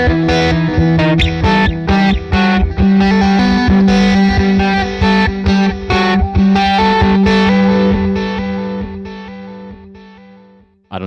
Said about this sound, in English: This is the original like guitar loop I made.